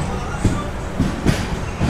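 The Sairang to Kolkata express pulls out of Hojai station from platform 1, a muffled rolling rumble from inside the carriage punctuated by periodic dull clunks of wheels over rail joints, with a voice faintly present.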